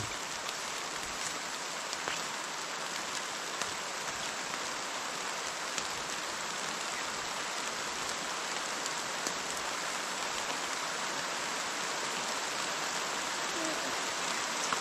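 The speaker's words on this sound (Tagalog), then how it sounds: "Ulan na naman." Rain pours steadily outside a rural Filipino household, an even, unbroken hiss of drops drumming on surfaces, moderately loud and with no talking.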